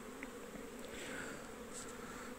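Honey bees feed on syrup at an autumn hive, giving a faint, steady buzzing hum with occasional brief louder wingbeats passing close, and no voices.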